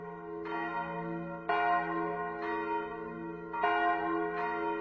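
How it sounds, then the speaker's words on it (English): The historic church bells of Balangiga ring in slow, steady strikes, each with a long resonant hum that overlaps the next, heard alone and moderately distant. "the bells of Balangiga are something that touch the soul of the people of the Philippines"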